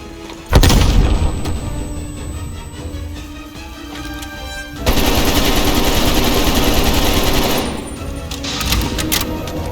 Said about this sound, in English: Sending grenade!